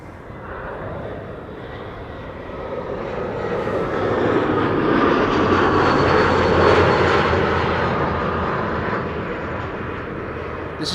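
A KLM Embraer 175 jet arriving from Luxembourg at Amsterdam Schiphol roars in loud and close, building to a peak midway before easing off, with no talk over it.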